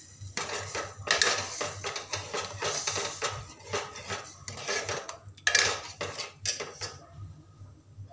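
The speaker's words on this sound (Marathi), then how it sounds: "तर आता आपण छान त्याला असं मस्त मिक्स करून घेऊया।" Cooked dal is stirred into the tadka in a metal pot. A spoon makes repeated clanks and scrapes against the pot in irregular bursts, close and loud, with no speech.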